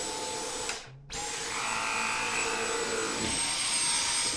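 A Dyson V10 cordless vacuum cleaner runs with a steady, loud high-pitched whine and motor hum, cutting out briefly near the start before spinning straight back up and holding an even drone.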